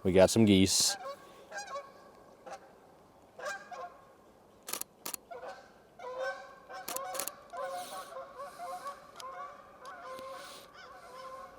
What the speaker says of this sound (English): And we got some geese.